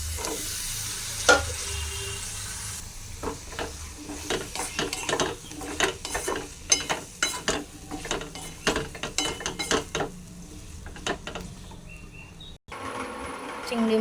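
Potatoes added to lightly browned onions in a pan sizzle and fry, with a run of sharp clattering stirring and scraping strokes over a soft sizzle; nobody speaks.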